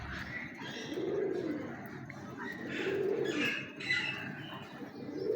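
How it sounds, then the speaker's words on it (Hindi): Soft repeated cooing from a close-up pigeon, a prized breed, in a low rolling rhythm, a few calls spaced over several seconds with light background noise. "ये नामी नेट कबूतर हैं"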